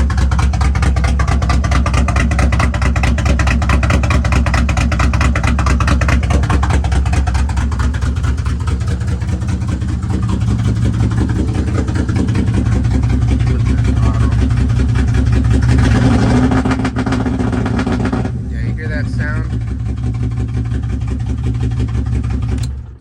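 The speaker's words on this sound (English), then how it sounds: "now it starts up instantly, but as you can see, it doesn't sound like it's running that well. It sounds like it's skipping." BMW E36 M3 with a 6-speed engine running roughly at idle and skipping, a loud, close, continuous low rumble with uneven pulsing, briefly swelling before settling back, no talking.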